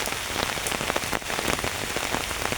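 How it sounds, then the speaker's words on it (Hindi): Heavy rain pours down, a dense, constant roar of drops drumming on surfaces nearby, with no voices. "हमारे यहाँ पर हो रही है बारिश"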